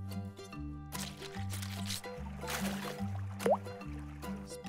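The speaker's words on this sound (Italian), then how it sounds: "Splash!" A cartoon water splash effect from a children's animated show, a short watery slosh and drip heard under a bouncy looping music bed, with a brief squeaky flourish near the end.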